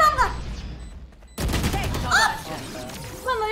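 Gunfire in the Valorant video game crackles in bursts, sudden and loud after a brief quiet stretch, while people talk excitedly over the shooting.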